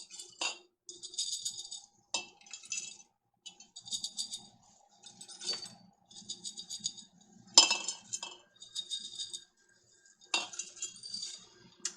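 Dehydrated celery pieces being dropped and shaken into glass jars, producing bright light rattling clinks in short repeated bursts with brief silent gaps between them.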